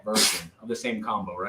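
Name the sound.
sneeze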